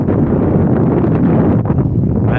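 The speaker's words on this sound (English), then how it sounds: "It's windy." Wind buffeting a microphone outdoors, a loud continuous low rumble and roar with no pauses, masking everything else.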